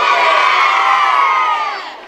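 A crowd of young people at the opening night of a youth sports tournament loudly shouts their team's chant in unison, a single sustained collective cry that fades at the end.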